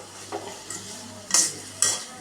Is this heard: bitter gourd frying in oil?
yes